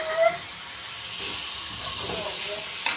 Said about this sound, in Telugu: ఉల్లిపాయలు అనేది ఇలా ఫ్రై అవుతున్నాయి కదండి